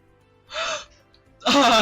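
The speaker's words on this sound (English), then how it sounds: "That gasp was so real." A startled real gasp of surprise from a streamer playing Minecraft survival, a sharp breathy intake near the mic, followed after a short pause by a louder, longer rushing breath or exclamation, close and fairly loud.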